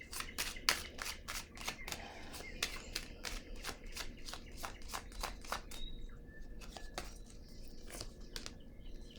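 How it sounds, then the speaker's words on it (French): Tarot cards are shuffled and handled at close range, making a quick run of crisp snaps and flicks that slows into scattered soft taps as cards are set down, with no talk. "Je vais déposer une autre carte dessus."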